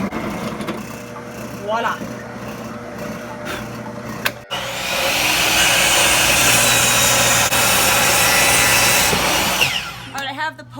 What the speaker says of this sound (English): right now I'm going to counterbore this hole so you won't see the nut